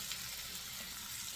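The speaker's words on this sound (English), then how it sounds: "So we're gonna melt that butter" Butter melts in a hot pan, giving a soft, steady sizzle that stays quiet and continuous with no talking over it.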